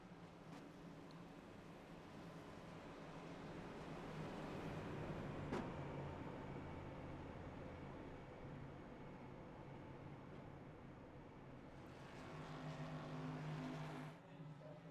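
A race car in an iNascar video game pulls out of the pits at Charlotte. Its engine gives a steady, fairly faint drone throughout, and the roar builds somewhat toward the end.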